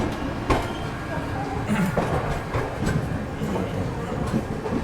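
The Marathwada Sampark Kranti Express runs at speed, its steady rumble and rhythmic wheel clatter heard from inside a coach, with a voice talking over it.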